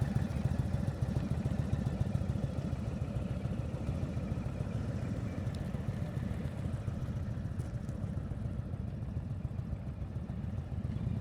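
A motorcycle engine idles and chugs at low revs during slow-speed riding drills in a parking area, a continuous close throbbing rumble with slight rises and dips in revs and no talking.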